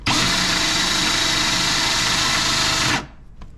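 A converted Jiffy ice auger, clutch removed and running on direct drive, spins with a loud steady high-pitched whine for about three seconds, then cuts off abruptly, leaving quiet background.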